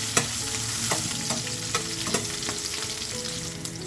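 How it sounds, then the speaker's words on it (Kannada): Crushed garlic and chillies fry in a pan over a medium flame, giving a steady close sizzle broken by repeated scraping stirs of a spoon, with no voices. "ಮೀಡಿಯಮ್ ಫ್ಲೇಮಲ್ಲಿ ಇಟ್ಟು ಸ್ವಲ್ಪ ಫ್ರೈ ಮಾಡ್ಕೊಳ್ಳೋಣ"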